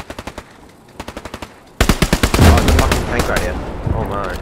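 Rapid bursts of machine gun fire in the World War II shooter game Hell Let Loose, short clipped volleys at first, then a louder, denser stretch of overlapping gunfire with echoing tails, as voices talk over the action.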